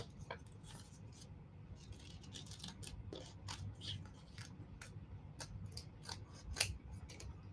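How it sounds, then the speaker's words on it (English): Scissors snipping repeatedly at close range in a quiet room during a Dollar Tree craft project, giving crisp, irregular cuts. "And get my scissors."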